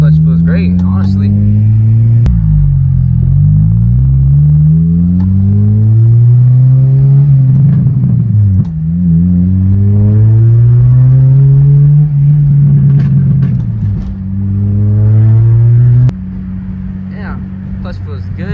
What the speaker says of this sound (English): All right, taking my car for a little spin.